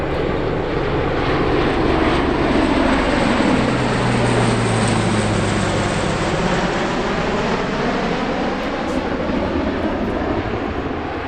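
Military aircraft flying at an airshow during an aerial refuelling demonstration, with a loud, steady jet roar that holds throughout and shifts slightly in pitch as the planes pass.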